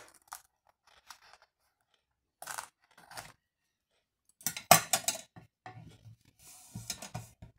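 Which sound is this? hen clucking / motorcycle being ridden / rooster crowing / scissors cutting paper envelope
scissors cutting paper envelope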